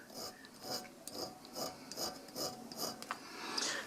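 Needle file taking a corner off a 1911 pistol part, a series of short, quiet rasping strokes in an irregular rhythm, close up with no talk.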